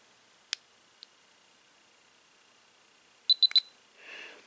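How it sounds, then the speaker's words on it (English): Runcam 2 action camera powering on after a long button press, with a couple of faint clicks followed by three quick high beeps and a brief soft rustle, all close and quiet. "you're going to want to hold that down until that beeps"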